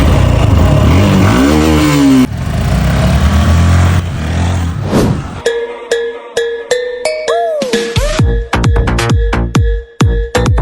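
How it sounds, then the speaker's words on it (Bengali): Motorcycles start up and rev in an outdoor setting, a loud continuous engine roar at first, then a series of sharp bursts and tonal revs with brief drops between them, close to the listener. "এই সবাই মোটরসাইকেল স্টার্ট দে"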